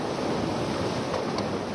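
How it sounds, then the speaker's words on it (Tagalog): Ocean waves washing in the dark at a nighttime fishing spot under moonlight, a steady broadband surf roar close by with light wind noise and no talk. "O yan o, yung alon, sarap pakinggan"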